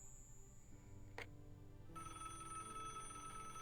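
An in-game telephone in the Broken Sword adventure game rings with a bright electronic trill, one burst then a sustained ring over quiet background ambience, no talking.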